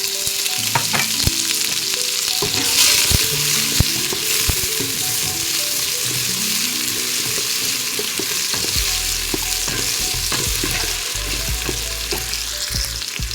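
Spices, added all at once to very hot soybean oil for a beef bone curry, fry with a loud, continuous close sizzle, punctuated by sharp stirring scrapes and clanks, with faint tonal sounds underneath.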